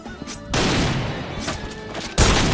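Video game gunfire crackles in a dense, loud burst lasting most of the moment, with a sharper blast near the end, and no talk over it.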